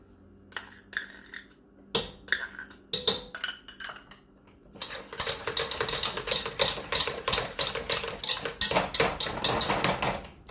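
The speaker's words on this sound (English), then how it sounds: "Use the old-fashioned hand masher." Hand masher working through cooked potatoes with garlic in a pot, a series of close, sharp clinks and knocks, sparse at first and then a dense, steady run of rapid metallic taps against the pot.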